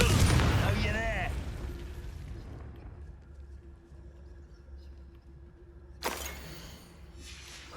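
A Confringo blasting spell explodes in Hogwarts Legacy: a loud, dense rumble at the start fades into a low ambient hum, then a sharp blast bursts out near the end. A voice can be heard briefly over the opening.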